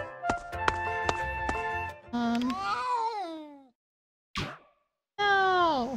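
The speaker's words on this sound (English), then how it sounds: "What was that? A cat's yell?" A cat in the game A Space for the Unbound lets out loud, drawn-out yowls with bending pitch, after a plucked musical passage, then a brief thud and another sharp yowl near the end.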